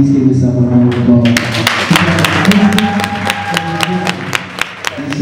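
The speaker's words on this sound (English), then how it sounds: "please give yourself a round of applause" Applause and scattered sharp claps from a crowd at a 2017 Philadelphia celebration of Black transgender people, with voices calling out and chatter mixed in under the clapping.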